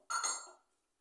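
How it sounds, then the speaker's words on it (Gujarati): A metal kadai is set down on a stovetop, one sharp clink with a brief metallic ring that fades within half a second. "કડાઈ લેશું,"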